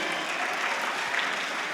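A crowd of students at a school gathering claps in a short burst of continuous applause, heard from some distance and fairly quiet.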